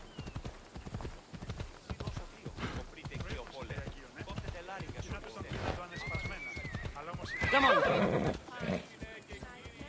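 Galloping hooves pound steadily from a horse in Assassin's Creed Odyssey, a fast rhythmic clip-clop that runs throughout, topped near the end by a loud neigh, with talking heard alongside.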